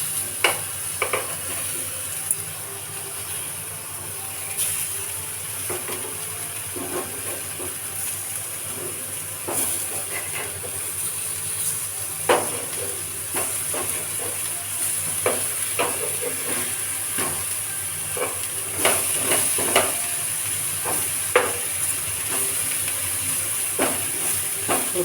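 Eggplant slices fry in a hot pan, giving a continuous bright sizzle and hiss with occasional clicks and scrapes from turning them, steady and close throughout.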